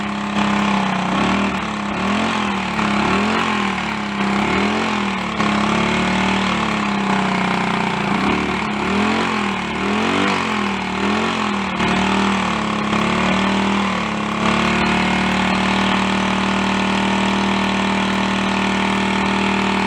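A Honda CD175 motorcycle engine runs with the choke off, a loud, steady idle with rhythmic rises and dips as the throttle is worked, then settling into an even drone.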